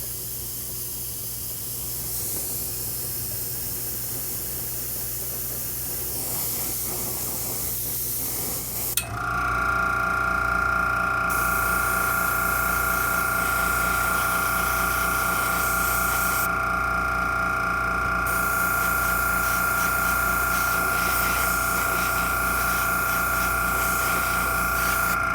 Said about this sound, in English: Dry that off with the airbrush real quick.